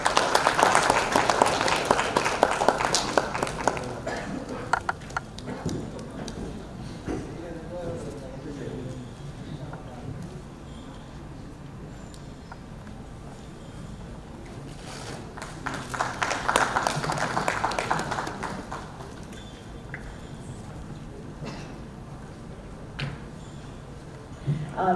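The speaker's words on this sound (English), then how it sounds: "A round of applause." A round of applause from an audience at a tech awards event, strong at first, fading into quieter room sound with speech, then swelling into a second burst of clapping before dying away.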